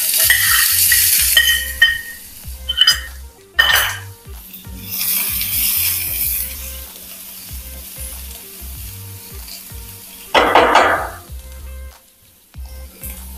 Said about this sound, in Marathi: आता आपल्याला कमी तेलामध्ये भाज्या भाजून घ्यायच्या आहे। आपण पहिला लसूण टाकून घेऊ।